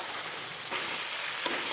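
Boiled jackfruit and potato frying in oil for a vegetarian dish, a dense even sizzle close by that swells slightly as pieces are stirred, with no one speaking.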